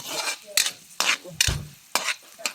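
Onion is sautéed in a pan for a chicken dish, with a steady sizzle under rhythmic scraping strokes of a utensil, about five distinct stirs close up.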